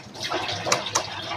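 A child splashes and rinses with handfuls of water at a tap outdoors, a short close burst of watery sloshing with a couple of brighter splashes.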